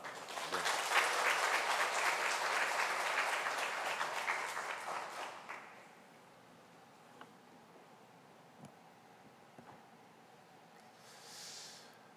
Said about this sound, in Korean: 우리 사모하는 마음으로 크게 박수로 환영하며 맞이하겠습니다